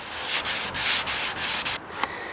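Steady, close abrasive scrubbing of light hand sanding on primer over a rust repair, in several back-and-forth strokes, ending with a brief tap.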